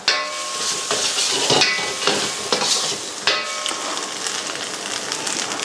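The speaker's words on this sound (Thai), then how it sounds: "ผัดจนไข่สุกร้อยเปอร์เซ็นเลยนะครับผม" Eggs stir-fried in a hot pan for a dry-fried shark fin dish, a loud continuous sizzle broken by repeated scraping and clanking spatula strokes against the pan.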